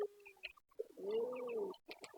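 A pigeon gives a few close, clear coos, a short call followed by a longer rolling one, with faint flutters and small sounds between.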